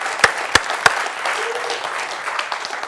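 A conference audience claps for a speaker's mother at a talk on art and technology, opening with a few sharp, close individual claps before settling into steady, moderate applause.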